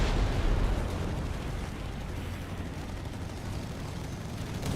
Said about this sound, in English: Oh, nice try with the retreat nade